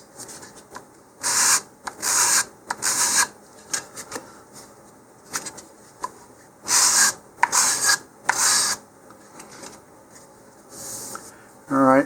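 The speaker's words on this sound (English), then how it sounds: "go ahead and sand off those little nubs." Model rocket fins from an Estes Hi-Flier XL kit being sanded with a sanding block: bursts of close, rasping back-and-forth strokes in two groups, with quiet pauses between them.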